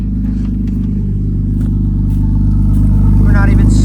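A BMW E36 engine starts and runs loud and close, a steady, slightly ticking low rumble that revs up toward the end while people talk over it.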